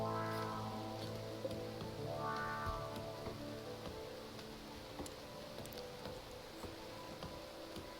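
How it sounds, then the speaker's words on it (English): Steady rain falls in the video game Rimworld, a dense, even hiss of drops with light ticking, along with soft tonal game music early on. No one speaks. "we've got Heel Root out in the rain"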